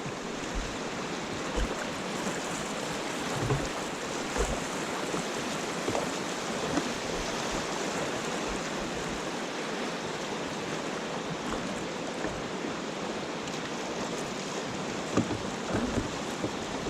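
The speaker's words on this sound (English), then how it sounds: "the water rushed into a narrow slot" Whitewater rushing through a narrow slot on the Petawawa River in Algonquin, a loud, steady broadband roar close by that holds without pause, with a few faint knocks on top and no talking.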